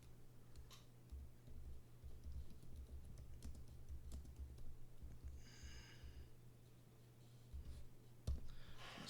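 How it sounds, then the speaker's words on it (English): Someone types quickly on a computer keyboard, quiet close clicking in uneven bursts over a faint steady hum, with a short rustle near the end. "I'm going to type it in real quick"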